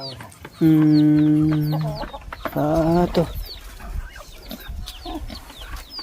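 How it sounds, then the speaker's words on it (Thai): Ducks and chickens on a farm produce two loud, drawn-out tonal calls early on, followed by scattered softer clucks and chirps in a noisy outdoor yard. "เป็ดไก่ของน้องบุญมาหลายเด้พี่น้องเอ้ย"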